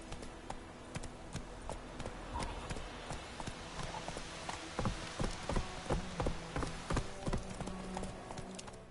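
Roach, a horse in a PS4 game, clops along in a steady rhythmic gait, hooves close and clear, getting louder toward the end over a low game ambience.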